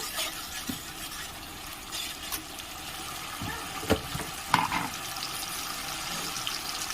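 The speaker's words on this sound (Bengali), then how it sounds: "এর সাথে দিয়ে দিলাম কাঁচা লঙ্কা বাটা, ভালো করে কষে নেব।" Green chili paste sautés together with ginger paste in a pan for a bottle gourd kofta curry. It gives a steady, even sizzle with a faint crackle and a few soft clicks from stirring.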